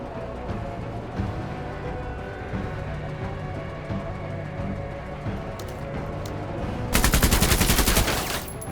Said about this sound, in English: I'm just trying to send a volley of bullets